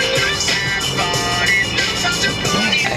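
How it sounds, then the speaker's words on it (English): Los Angeles road traffic, a steady close wash of car engines and tyre noise with faint tonal hum throughout. "I hate LA traffic."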